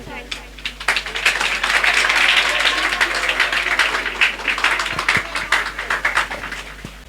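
Audience at a school Children's Day annual celebration applauds after a song, a dense, loud clapping that swells after the first second and holds steady, with voices talking over it throughout.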